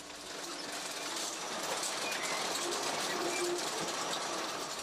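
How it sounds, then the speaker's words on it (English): A high-tech opal mining machine grinds and carves through desert earth, producing a steady, fairly faint broadband rumbling and rattling that holds evenly throughout with no speech. "a high-tech machine which carves its way through the earth precisely and efficiently"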